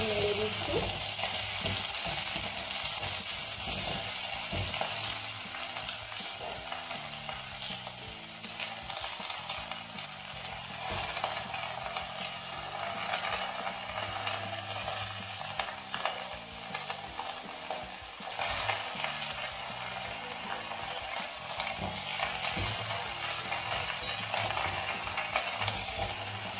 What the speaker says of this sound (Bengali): অল্প কিছুটা পাতা দিয়ে আমি তার জন্য নেড়ে দিচ্ছি